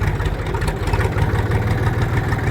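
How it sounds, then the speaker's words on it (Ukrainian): A tractor engine idles before warming up on a morning at the start of a potato-harvesting day, a steady low rumbling chug with a close, even, continuous drone and no talk. "Ось трактор ще навіть не прогрітий."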